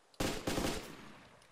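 Gunfire in the video game DayZ, two quick bursts of shots close together, fairly faint, trailing off into a short echo.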